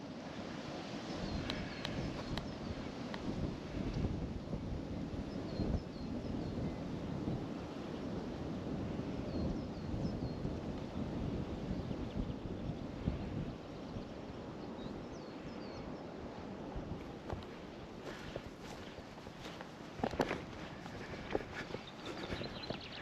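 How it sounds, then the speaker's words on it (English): Low, steady rumble of the sea as the tide comes in along the coast between East Linton and Dunbar, heard from a distance under wind buffeting the microphone for the whole stretch, with a few small knocks near the end. "You can actually hear the low rumble of the water from here."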